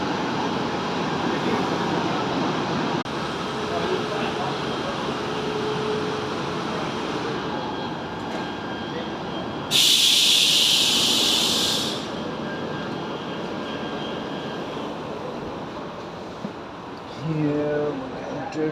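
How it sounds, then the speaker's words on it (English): An electric local train rumbles into Batu Caves station with a steady low roar and a high hiss, a sharp burst of bright noise in the middle, then squealing brakes as it slows. "this is local train coming here"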